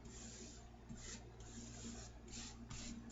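Paper rubbed in firm repeated strokes as a rooster-printed napkin is burnished down onto a paper tag, giving a soft scratchy rasp that swells and fades several times close to the mic.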